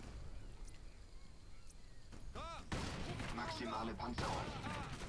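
Rifle fire in the video game Crysis Warhead: after a quieter stretch, dense bursts of shots break out and keep going over game effects and a faint voice.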